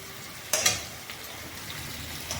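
Spice paste for goat curry sizzles and fries in oil, a steady close crackle with a sharp stirring clatter near the start and quieter scrapes after it. No one speaks.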